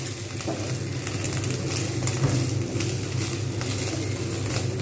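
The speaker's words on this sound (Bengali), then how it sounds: "এভাবে আমি কিন্তু পুরো ডিমটাকে সুন্দরভাবে ভেজে নেব" Egg frying in a pan for a home-style egg and taro dish, a steady crackling sizzle that holds at an even level throughout without pauses.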